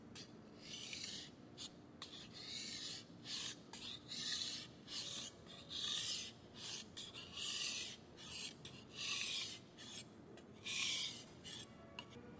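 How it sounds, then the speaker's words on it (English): A Japanese kitchen knife drawn across a whetstone in steady rhythmic strokes, each a raspy, hissing scrape lasting under a second and separated by short pauses, close and fairly quiet with no voices. "keep your fingers positioned directly over the stone's surface and above the area of the knife you're sharpening"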